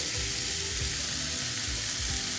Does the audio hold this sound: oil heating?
yes